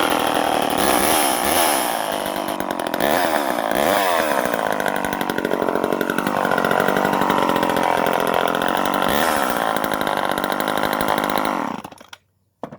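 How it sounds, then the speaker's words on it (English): A small vintage chainsaw engine, a Poulan 25DA or Craftsman 2.1, roars close by, revving up and down in a raspy buzz for several seconds before cutting off abruptly. "let's see if this one fires up so you can hear it"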